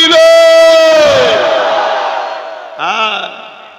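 A large crowd at a religious gathering roars a unified takbir chant in response to a leader's call, a loud, sustained chorus of raised voices that swells and then fades, followed by a second shorter shout.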